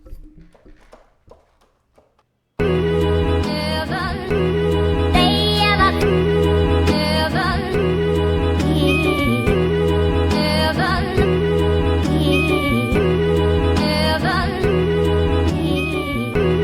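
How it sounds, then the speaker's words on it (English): After a brief faint intro, a loud looping keyboard groove plays steadily, repeating a sampled rhythmic pattern with a bright melodic line over a deep bass. "mess around on my keyboard and play it."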